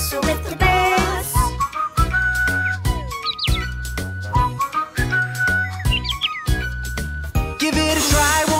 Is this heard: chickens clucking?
no